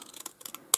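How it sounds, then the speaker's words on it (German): Scissors snipping through paper while a card tag is made, a handful of quick close crisp cuts spread unevenly, the last one loud and sharp. "schneide mir jetzt mit der Schere einfach hier gerade"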